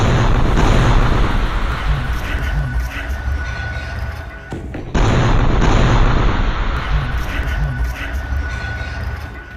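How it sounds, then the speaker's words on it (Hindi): A bomb explodes under a bulldozer at night, a loud, sustained heavy blast that cuts out abruptly midway and then resumes just as powerfully, with booming low rumble throughout. "रात के अंधेरे में ये बुलडोजर अचानक फट जाता है, जिसमें बहुत बड़ा धमाका होता है"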